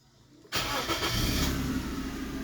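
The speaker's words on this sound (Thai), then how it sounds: "ดี๋ยวจะสตาร์ทเครื่องให้ดูครับ" A car engine with its catalytic converter removed and a CO2 sensor spoof fitted cranks and catches after a quiet half second, then settles into a loud, steady idle close by.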